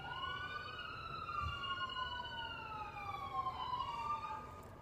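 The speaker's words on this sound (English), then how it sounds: "I love those sirens" Distant emergency sirens wail in overlapping rising and falling tones, several at once, faint and steady over low background rumble.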